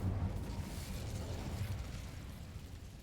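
Incendio fire spell cast in the Hogwarts Legacy video game, a dense rumbling burst of flame with heavy low-end roar sustained for about three seconds, loud and unbroken.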